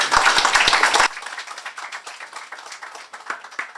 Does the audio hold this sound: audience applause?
yes